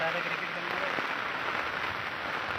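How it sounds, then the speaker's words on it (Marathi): Heavy rain pouring down outdoors in farm fields, a loud, dense, steady hiss of drops that fills the scene without a break, with a voice faintly heard under it. "पाऊस पण खूप पडतो आता अचानक भयानक आला पाऊस"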